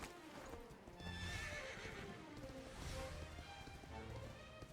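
Horse in the video game Dragon Quest 11 whinnies amid steady clip-clopping hooves, with faint ambient game music and rustle underneath throughout.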